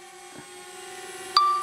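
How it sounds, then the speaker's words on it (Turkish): A DJI Spark drone flies in circle mode, giving a steady, thin, high-pitched motor whine throughout, with a sharp ding-like tone near the end. "Ve şu an drone etrafımda dönüyor benim."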